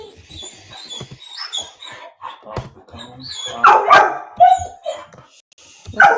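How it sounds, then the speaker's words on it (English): A dog barks indoors during a live broadcast, giving several sharp yips and barks at irregular intervals, with a few whimpers between them. "I can't stop him barking, I'm afraid."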